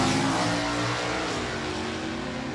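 Super stock drag race with a 1965 Chevelle automatic and a 1967 Ford Mustang, engines roaring hard at full throttle as the cars accelerate down the strip, a dense continuous mechanical blare heard from trackside.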